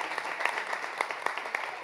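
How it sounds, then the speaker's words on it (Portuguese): Audience applause for a woman honoured at an Amnesty International annual report event in Brazil, a soft, moderately distant patter of clapping with a few sharper individual claps standing out. "Uma salva de palmas para ela também."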